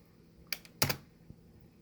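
Someone types a short file name on a computer keyboard, a few sharp close keystrokes including one brief cluster of clicks, then a faint final tap in quiet surroundings.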